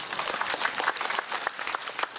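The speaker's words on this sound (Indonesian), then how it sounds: "Tepuk tangan tuh Pak Bupati." A crowd at an Islamic tabligh akbar gathering applauds the Bengkalis regent, a steady patter of many hands clapping at moderate distance, fairly soft and even throughout.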